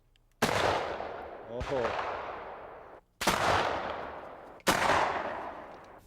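Three loud muzzleloader gunshots fired at an axe-blade target, each a sharp crack with a long echoing decay, spaced about one and a half seconds apart outdoors, with a brief exclamation from a voice.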